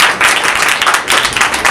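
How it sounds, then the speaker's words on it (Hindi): Congregation clapping loudly in a church service after a pastor's sermon on Genesis, a dense, sustained burst of applause from many hands with slight surges, close and strong, no speech on top. "यीशु के लिए जोरदार तालियां बजाओ"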